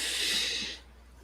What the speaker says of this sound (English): let's take one more clearing breath